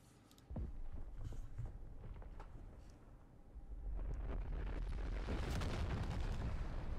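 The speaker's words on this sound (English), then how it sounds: "I love a good nuclear explosion in the morning." A large nuclear-style explosion in a Star Wars strategy game rolls out as a deep, sustained roar, swelling louder midway and rumbling on with a wind-like rush and no voices.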